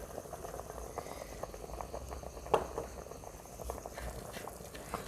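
Thai three-flavour soup with chicken wings and vegetables boils in a pot, a soft, steady bubbling and simmering hiss with one brief clink partway through.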